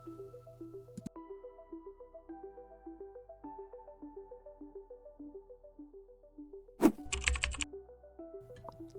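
Fingers tap out a run of quick, even keystrokes on a computer keyboard, close and crisp, with a louder clatter of keys toward the end.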